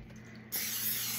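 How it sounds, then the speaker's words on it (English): Canola oil cooking spray hisses onto a tortilla in one short, steady burst that starts abruptly after a quiet kitchen moment, close and moderately soft, with no voices. "So I'm gonna use this canola oil spray because that's what I have."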